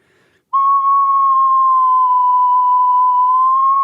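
A whistle sounds a loud, steady, pure tone that begins abruptly and holds for several seconds, its pitch bending slightly at the end as a finger slides slowly over one of its holes.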